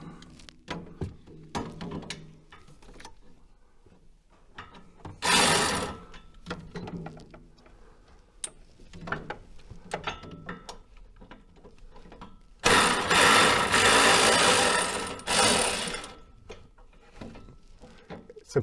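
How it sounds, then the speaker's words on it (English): A ratchet works bolts loose from a Kawasaki KRX 1000 frame in quick clicking bursts, separated by longer stretches of dense, louder mechanical whirring and handling noise. "So I'll be removing the bolts."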